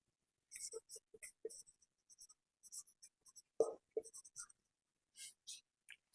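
Pen writing a Pythagoras formula on paper in a maths lesson, quick soft scratching strokes in short bursts, close and fairly quiet, with a voice talking in between.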